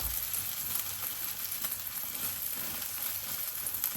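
Scrambled egg fries in a hot pan with a constant, even crackling sizzle that stays at the same moderate level throughout.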